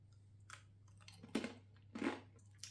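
Crunchy bites and chewing of crispy fried dough snacks coated in sugar syrup, a few distinct crisp crunches close up with quiet pauses between.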